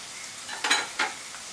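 Beans are dropped into hot oil in a pan for veg fried rice and stirred, giving a faint sizzle with two short scraping bursts from the stirring utensil.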